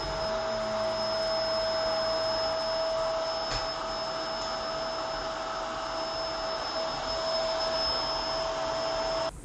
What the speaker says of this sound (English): It has pretty good suction and power without sucking the mat up off the floor